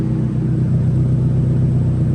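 A 1997 Honda Civic DX hatchback engine idles with a deep, steady exhaust rumble, loud and close, with no talking.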